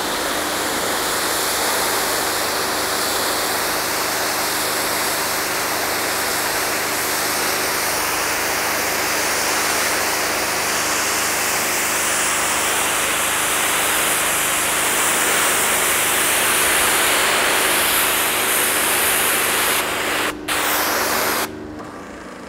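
A Jetwave Executive hot water pressure washer in dual operation mode, two guns at 3600 PSI with 08 nozzles, producing a loud, continuous hissing spray that holds steady before cutting out near the end.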